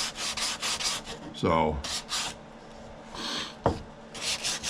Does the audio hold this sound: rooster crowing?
no